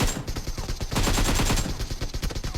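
Rapid automatic gunfire in the PUBG Mobile battle game, a dense close burst of repeated shots followed by shorter spaced volleys, loud and with no talk.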